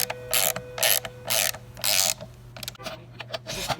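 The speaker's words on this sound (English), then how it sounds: "I'm alternating between the two different bolts, because as I snug one up, the other one becomes loose" A ratchet tightens skid plate bolts on a 2018 Husqvarna TX 300 dirt bike, with four loud, close bursts of rapid clicking followed by lighter, scattered clicks.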